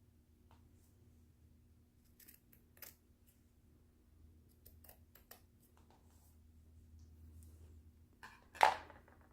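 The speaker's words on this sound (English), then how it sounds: "now I'm just going to cut the tails on the bottom here into a V, cut a V shape out of there like that." Scissors snip ribbon tails into a V shape for an Easter spring wreath: a few quiet, crisp clicks spread across a near-silent room, ending with one louder snip.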